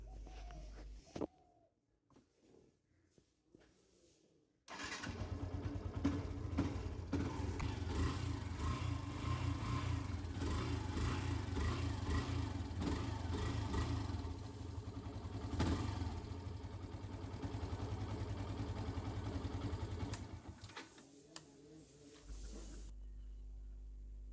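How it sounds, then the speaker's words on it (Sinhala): A motorcycle engine starts up after a few quiet clicks and rumbles steadily at idle for a long stretch, then cuts off. "අපි දැන් බයික් එක start කරලා බලමු."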